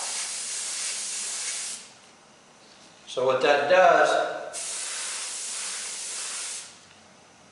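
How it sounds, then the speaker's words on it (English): Two long bursts of spray hiss from a can, separated by a brief pause in which someone speaks. "You want to spray right on the end of it and spray out."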